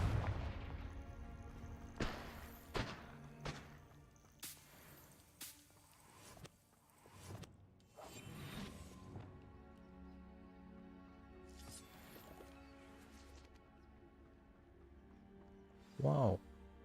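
Spell blasts from the Confringo fire curse in Hogwarts Legacy, a string of sharp cracking booms spaced a second or two apart over a game soundscape, with a voice speaking at moments.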